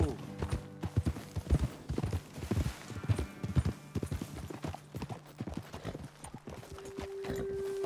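Horses' hooves clip-clop in an uneven walking rhythm in Red Dead Redemption 2, with an occasional snort and a brief tonal hum near the end.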